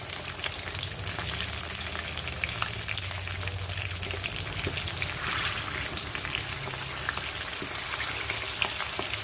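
Green chillies sizzling and crackling in hot oil as a base for fried hilsa biryani, a steady close frying hiss with scattered pops throughout.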